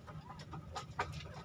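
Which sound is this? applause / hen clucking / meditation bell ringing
hen clucking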